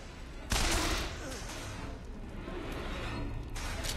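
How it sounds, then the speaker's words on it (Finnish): Gunfire in the video game BioShock Infinite: a sudden loud burst of shots opens the stretch, then a steady, dense clatter of weapon fire and combat noise continues at moderate level throughout. "Rupeavat ammuskelemaan mua."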